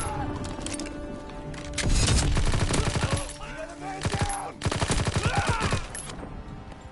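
Tommy gun bursts in a WW2 video game: rapid automatic gunfire in several loud, close volleys with short gaps between them, with game effects underneath.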